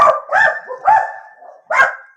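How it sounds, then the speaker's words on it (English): Dogs barking in a quick series of four sharp, loud barks close by, spaced irregularly with short gaps between. "Whose dogs are those?"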